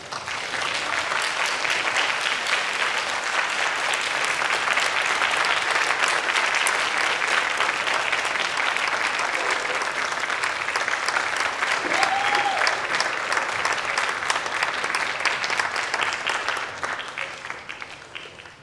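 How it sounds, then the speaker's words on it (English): At a university graduation ceremony, a large audience applauds the graduates' families and supporters with sustained, dense clapping that holds steady for many seconds before tapering off at the end. "applaud them all for their support"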